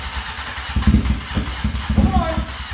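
Street bike engine swapped into an ATC250R three-wheeler sputtering and catching on its first start, uneven chugging bursts that sound loud and close, with a person talking over them.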